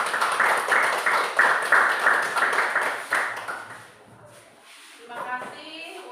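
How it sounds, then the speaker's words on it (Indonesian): A classroom group clapping together in a rhythmic, evenly spaced beat for about three seconds, then trailing off into quieter shuffling and a few voices. "Silakan tepuk tangan dulu."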